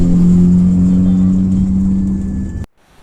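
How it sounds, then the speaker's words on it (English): A taxi carries passengers toward the airport with a steady, loud engine drone and road hum throughout, ending in an abrupt cut to near silence; no one speaks. "we rode a taxi towards the airport for our flight to Siargao"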